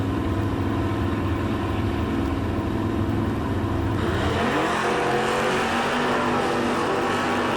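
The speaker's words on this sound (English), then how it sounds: "10:12 for Walter Morgan out of Clark Summit, 69 Camaro." A 1969 Camaro at a drag strip start, engine roaring loud and steady at close range, then rising into a harder rev as it launches about halfway through, with no talk.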